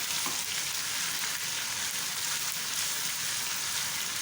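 Cumin and other spices for a tempering sizzle steadily in hot oil for masoor dal, a dense crackling hiss that holds constant and close throughout, with no voices.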